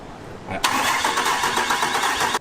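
A Cummins diesel swapped into a Ford Mustang cranks over with a loud, rapid starter churn that begins abruptly and runs steadily for nearly two seconds before cutting off, without catching.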